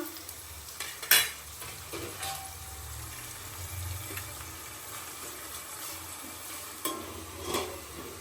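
Onions fry and get stirred in a pan for gongura chicken, a soft steady sizzle broken by several spoon scrapes and clinks, with no voices.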